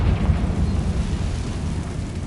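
A Confringo blast spell explosion in the video game Hogwarts Legacy, a loud, sustained roaring rumble with heavy low-end boom that fills the whole moment and slowly fades.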